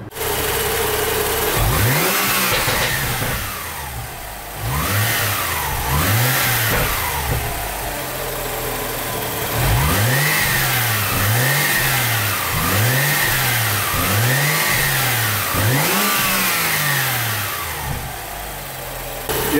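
Stock airbox and filter on a BMW M135i, its engine revved repeatedly in a string of rising and falling sweeps, loud and close with a steady idle between pulls.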